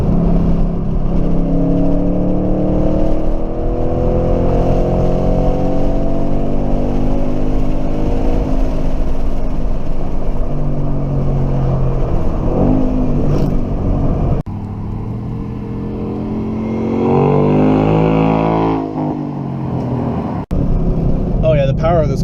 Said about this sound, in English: I'm in love with this engine already.